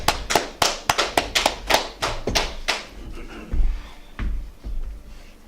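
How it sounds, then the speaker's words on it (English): A small group at an evening law class claps in a burst of sharp, separate hand claps that fade out after about three seconds, followed by a few soft thumps and shuffling in the room. "Clap it up."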